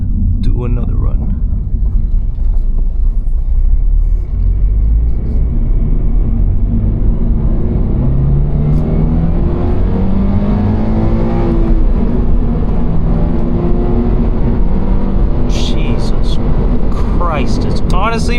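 Car engine on a driving run in a daily-driver car, a loud low rumble that climbs and shifts in pitch as the car accelerates through gears, with interior road noise underneath.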